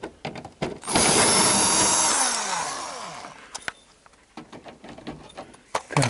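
A power tool, likely an impact driver, unscrews the engine guard beneath a Toyota Corona Premio: one loud burst of whirring and rattling for about two seconds that trails off, followed by scattered clanks and knocks in a garage.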